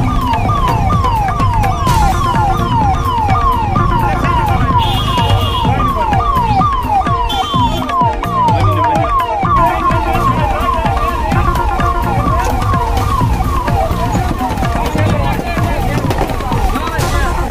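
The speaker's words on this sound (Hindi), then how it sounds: "यहाँ पर इस वक्त भी किस तरह से एम्बुलेंस फंसी हुई थी।" Ambulance siren wailing steadily while stuck in a traffic jam in the main market of Thathri town, loud and continuous over dense traffic noise and crowd babble, with voices audible throughout.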